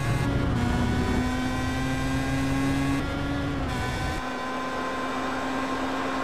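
Pro Mazda open-wheel race cars blast through the final corner at Road America, steady loud engine drone with rising and shifting pitch as several cars pass close together and accelerate away, no talking.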